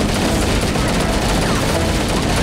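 Gunfire in Halo: Combat Evolved, a dense, continuous loud barrage of shots and noise with no pauses.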